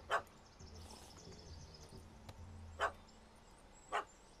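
A dog barking in The Witcher 3: Hearts of Stone, three short separate barks at a moderate distance over a quiet game ambience with a low hum.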